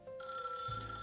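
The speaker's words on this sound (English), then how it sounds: "The phone rings." A telephone rings in the video game Path to Nowhere, a bright electronic trill that starts abruptly and holds steady and clear, with a low tone entering underneath near the end.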